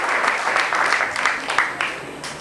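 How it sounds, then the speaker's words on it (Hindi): An audience at a BARC Tarapur gathering gives a short, hearty round of applause for Dr Panekar, dense clapping rising and falling in quick surges. "तो एक जोरदार तालियां डॉक्टर पनेकर साहब के लिए।"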